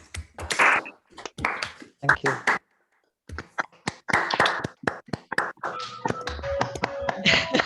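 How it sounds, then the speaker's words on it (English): Scattered, uneven hand clapping from several people comes through unmuted microphones at an online conference session, patchy bursts with brief gaps and a voice speaking among them. "we can give our speaker a round of applause"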